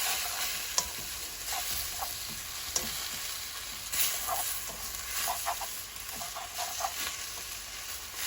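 Vegetables stir-fry on medium heat with a continuous bright sizzle and frequent scraping and clicking as a utensil tosses them around the pan, over a faint steady hum.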